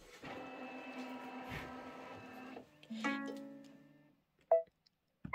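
An embroidery machine powers on with a steady mechanical whir and hum of motors for a few seconds, then shifts to a lower tone before falling quiet, followed by a couple of short electronic beeps.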